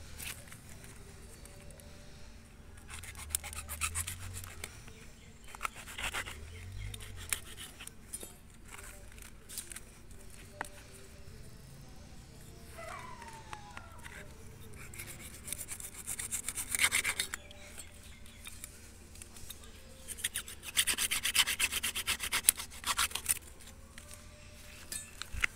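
Something being cut into pieces with farm equipment at a Madurai agricultural tools shop, heard as intermittent rasping, rubbing strokes with scattered clicks over a long stretch, fairly faint, with occasional voices in the background.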